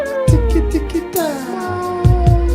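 A voice imitates a cat, repeating meows several times in a rhythmic lullaby rap over a steady backing beat.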